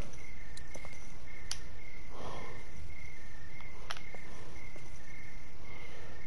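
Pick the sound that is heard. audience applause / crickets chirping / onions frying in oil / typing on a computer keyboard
crickets chirping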